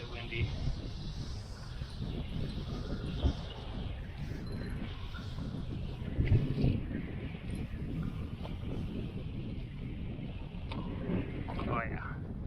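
Wind blowing hard across a lake around a fishing boat, a steady low rumbling gust noise buffeting the microphone, continuous and close, with a voice speaking briefly over it.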